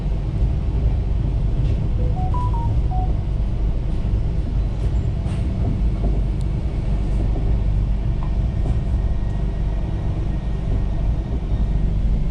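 The Ranthambhore Express, pulled by a WDP4 diesel locomotive, leaving Isarda station, heard as a steady loud low rumble with faint clanks and squeals throughout and no talk.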